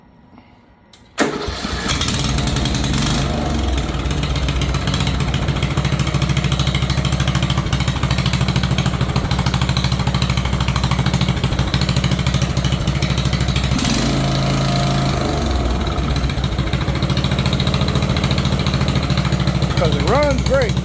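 The small engine on a Bolens 38 inch lawn tractor cranks and catches, then runs steadily and loudly up close for about twenty seconds, with a brief change in pitch partway through.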